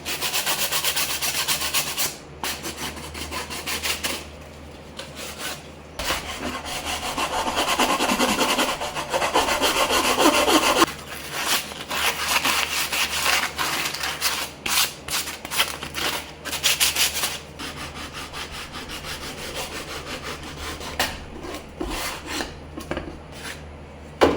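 Hand sanding a wooden speaker enclosure built into cinder blocks, a steady rasping rub repeated in long strokes and bursts, close and fairly loud with short pauses, no talking.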